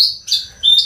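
A caged songbird chirping loudly and close, three bright tweets in quick succession with no other sound.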